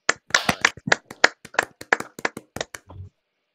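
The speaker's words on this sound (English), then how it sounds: "Can we just unmute everybody and just give us a nice golf clap?" Scattered light hand claps from a small online class, about a dozen uneven claps in a brief ragged burst that stops abruptly, with no talking.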